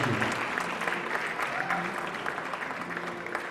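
Audience applause at a live poetry performance, a dense steady clatter of many hands clapping at moderate distance, continuing unbroken with no talking.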